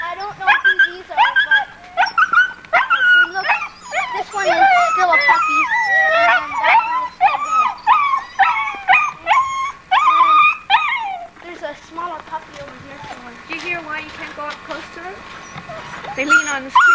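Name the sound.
sled dog puppies barking and whimpering in kennel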